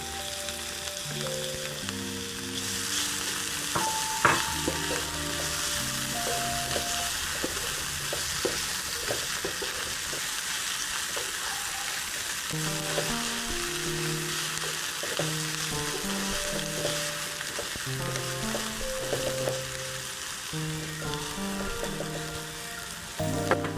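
Ginger garlic paste fries in oil for a chicken curry, a steady dense sizzle and crackle with occasional stirring clicks, continuous throughout, over soft background music.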